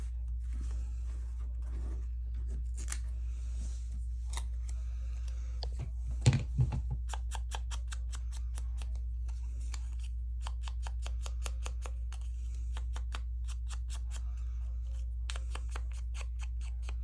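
Scissors trimming a paper craft piece, with quiet rhythmic snips repeating in quick runs over a low steady hum, plus a brief rustle of paper midway.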